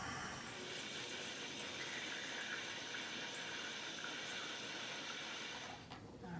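A Kangen water ionizer machine runs water into a container at a slowed flow rate, a steady close hiss and trickle of pouring liquid that tapers off at the end.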